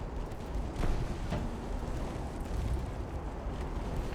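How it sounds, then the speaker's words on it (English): Salvo fire from a warship engaging with all of its guns in Ultimate Admiral: Dreadnoughts, heard as a steady, moderately loud rumble of naval gunfire with a couple of sharper blasts standing out early on. "Cape Town now engaging with all guns"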